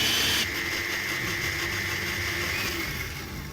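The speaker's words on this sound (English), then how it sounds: "Quite a lot of stalks and leaves of coriander and about 3 spring onions in the blender." A kitchen blender runs steadily with a whirring motor roar, blending lime, rum, manuka honey, coriander stalks and leaves, and spring onions, loud and continuous throughout.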